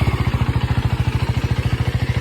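A 2024 KTM Duke 390 with an underbelly exhaust idles steadily, its single-cylinder engine thumping in a fast, even pulse, loud and close, with no talking over it.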